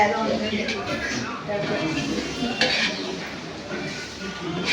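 A large pot of chicken biryani is stirred, the ladle scraping and clinking against the metal, with a voice talking in the background.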